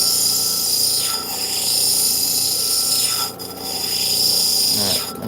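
Stone being sanded with a coarse 80 grit abrasive on a rotary tool, a steady gritty grinding hum with repeated rubbing strokes that dip briefly in level, close and loud.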